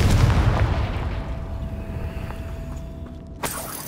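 Confringo spell explosion in Hogwarts Legacy, a loud booming blast at the start that rumbles and fades over a few seconds, with a smaller impact near the end.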